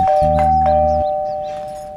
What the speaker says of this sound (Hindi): कौन या सुबह सुबह जब देखो घंटी बजती रहे, टड़ंग टड़ंग टड़ंग टड़ंग